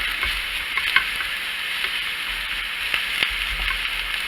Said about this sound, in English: let that cook a minute, because you don't want all the onions raw